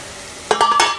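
Onions frying in a pan for a qorma, a soft sizzle with a few quick stirring scrapes and clinks over about a second.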